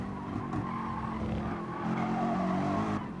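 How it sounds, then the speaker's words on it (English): Jaguar race car's tires squealing under pressure while chasing closely through a corner in a Gran Turismo Sport race at Lago Maggiore, a sustained screech over steady engine drone. "Jaguar squealing under pressure"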